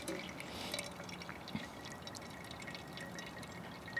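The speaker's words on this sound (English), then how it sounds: "And I'll just slowly work my hot water into the grounds of coffee." Hot water poured slowly over coffee grounds in a GSI pour-over filter set in a Keith titanium GI canteen mess kit, dripping and trickling as a continuous close liquid patter with scattered small drips, no voices.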